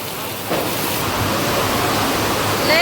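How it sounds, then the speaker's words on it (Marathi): Heavy rain pours down steadily outdoors in a rural setting, a dense broadband hiss that swells louder after a moment and keeps roaring without a break. "लय जोरदार पाऊस आलाय बघा"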